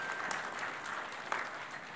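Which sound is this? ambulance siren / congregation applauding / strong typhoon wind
congregation applauding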